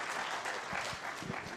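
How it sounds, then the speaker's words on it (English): Audience applause at a Nairobi tech week event, steady dense clapping from a crowd filling the short stretch at an even level, with a few heavier thumps underneath. "Please give him a round of applause"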